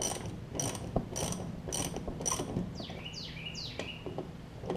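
A ratchet tightening a 9/16 bolt on the engine of a Craftsman LT4000 hauler lawn tractor, giving a run of repeated clicking pawl strokes in steady bursts, close and moderately loud, with a few sharper metallic chirps toward the end.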